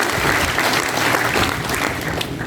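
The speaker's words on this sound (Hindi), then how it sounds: "जोर से ताली बजाओ, जीत गई भाई," Crowd at a BJP election rally applauding, a dense, loud, sustained burst of clapping from many hands.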